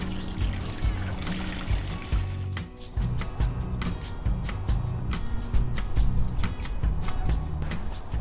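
Diluted clay slurry pours from one bucket into another, making a steady trickling, splashing stream with brief knocks and scrapes from the buckets.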